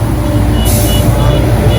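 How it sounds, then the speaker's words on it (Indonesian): A truck on a Beijing street, passed from a bicycle: a low, heavy engine rumble close by with a brief hissing burst partway through, amid steady traffic noise. "Wah, saya mesti nyusul truk ini dulu"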